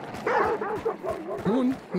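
In the video game Hunt: Showdown, dogs yip and bark in quick, whining bursts that sound close and fairly loud, with players talking underneath.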